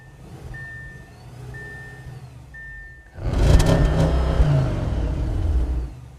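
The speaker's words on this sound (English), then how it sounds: "let's check out the exhaust sound for the Audi" An Audi S6 sits at a quiet idle for about three seconds, then its exhaust bursts into a loud, sustained rev that holds to the end.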